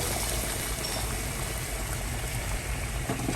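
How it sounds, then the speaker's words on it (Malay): About one liter of boiling water pours in a steady, continuous rush into a pot for chicken soup, a dense close-up gurgling stream with no voices. "I put in boiling water around 1 liter."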